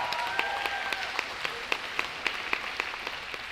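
Steady applause from a school audience after a jazz combo performance, sustained clapping with sharp individual claps standing out, fairly distant and even throughout.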